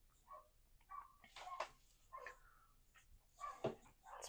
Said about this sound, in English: It's probably the dog out there, probably interacting with the stray cats.